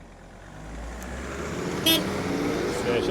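A tractor pulling a 1NTS-2 semi-trailer drives by with a low, steady engine rumble that grows slightly louder, while people talk nearby.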